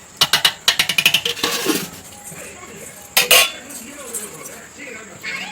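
Metal spoon clinks and scrapes against a pot of chicken biryani in a rapid burst of stirring, then a single sharp clatter as a lid goes on, with faint kitchen noise around it.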